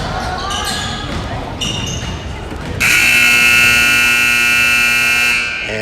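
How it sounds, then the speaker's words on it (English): A loud, sustained electronic buzzer sounds at a junior high basketball game in a gym and holds for about three seconds, following a few earlier shorter tones over crowd noise and bouncing balls. "here comes the buzzer"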